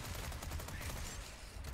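Sustained automatic gunfire from a video game rattles in a dense, rapid stream of shots at moderate level, with no speech over it.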